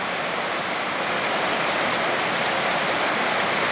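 Steady, heavy rain pours down on a ranch, a dense unbroken hiss that holds at full strength throughout with no voices.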